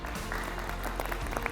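Audience applause at a civic assembly on youth homelessness in Deschutes County, Oregon, a steady patter of many hands clapping at moderate distance, continuous and even with a few sharper claps standing out.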